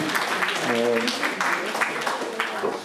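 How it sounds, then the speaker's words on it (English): An audience at a concert introduction applauds a pastor, a burst of clapping under a speaking voice that runs through the middle, with the clapping thinning toward the end. "Let's have a round of applause for him"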